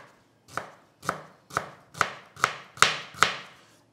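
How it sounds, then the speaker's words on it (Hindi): Fresh ginger being finely chopped with a knife on a board, seven crisp, evenly spaced chops that build slightly in loudness, close and clear with no talk. "इसको हम बारीक चॉप करेंगे।"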